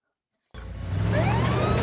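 A police car siren from a crime action film, Steven Seagal's True Justice, cuts in abruptly after a half-second of silence and rises into a loud, sweeping wail over a low vehicle rumble.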